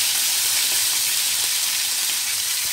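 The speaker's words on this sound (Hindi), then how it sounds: "इसके अंदर आपको जो मटन के पीसेस हैं उसे डाल के फ्राई कर लेना है" Mutton pieces frying in very hot oil, a loud, steady hiss and sizzle close by, with no talking.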